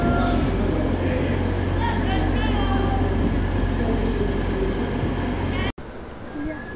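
A Class 91 electric locomotive propels an InterCity 225 train out of Doncaster station toward London, a loud, steady rumble and rail noise close by with a voice over it, ending abruptly.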